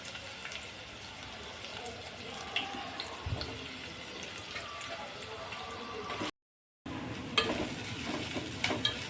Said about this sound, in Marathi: कांदा छान लाल होईपर्यंत भाजायचा आहे आपल्याला।